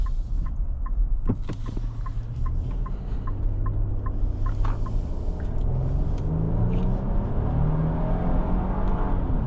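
A 2025 Nissan Armada PRO-4X accelerating on the road, heard from inside as a steady low engine rumble and rising whir that climbs in pitch, with a few light clicks early on and no talking.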